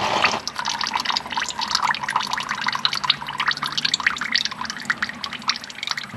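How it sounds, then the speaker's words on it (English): Oil pours steadily from the engine drain plug of an overheated Polaris Ranger side-by-side with coolant in the oil, a continuous close liquid stream with patters and drips and no talking. "What we saw come out at the very start of draining that oil, and then how this drain plug looks."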